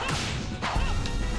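Whip lashes from Castlevania: Legacy of Darkness, a couple of sharp slapping cracks in quick succession over dense game audio, loud and close with no talking.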